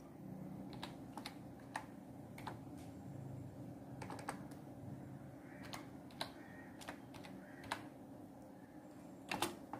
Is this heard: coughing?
no